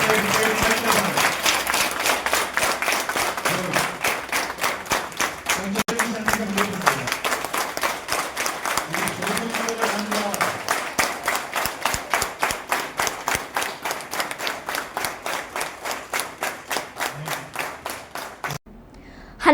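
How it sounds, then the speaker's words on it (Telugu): A crowd at a political party meeting claps to approve a resolution: loud, steady, rhythmic applause that lasts about twenty seconds and stops abruptly. "మీ చప్పట్లతోటి"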